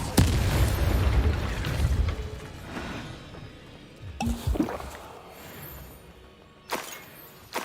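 A Reducto blasting spell explodes during a Hogwarts Legacy duel: a loud, close boom that rumbles for about two seconds, followed by a few softer thuds and magical impacts spaced out over the next several seconds, with no talking.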